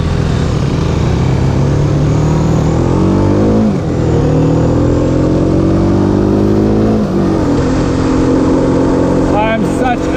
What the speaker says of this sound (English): We're going to see what it feels like, what it's like to ride, some acceleration